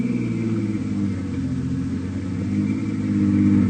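A small airplane's engine idles and turns over with a steady low droning rumble, close and continuous, swelling slightly toward the end.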